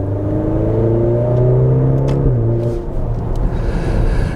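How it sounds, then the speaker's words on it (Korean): A Maserati Grecale Modena with a 2.0L four-cylinder turbo petrol engine revs high and loud, its drone dropping in pitch at a paddle-shift upshift, with brief faint crackles from the exhaust around the change. "RPM을 최대치로 사용을 해서 이제 패들 시프트를 변속이 들어가면 뒤에서 이제 파박 터지는 소리"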